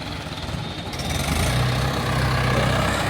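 A tractor engine runs steadily while mud is mixed at a brick kiln. The low, continuous rumble grows slightly louder partway through, with no other clear sounds.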